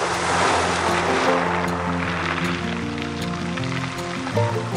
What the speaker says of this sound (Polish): Dzisiaj morze nieco wzburzone. Takie fale.